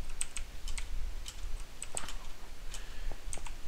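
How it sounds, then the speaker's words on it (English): Clicky keystrokes on a mechanical keyboard, irregular taps close by at a moderate pace with no talking. "one thing you probably didn't know is I have a mechanical keyboard."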